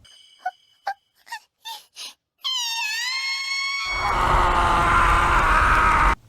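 A woman lets out a long, piercing high-pitched scream after a few short vocal sounds, and a loud noisy rush follows.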